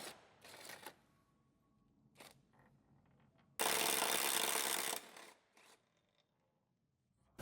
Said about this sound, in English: Use a 17mm on the impact to finish removing the rear subframe bolts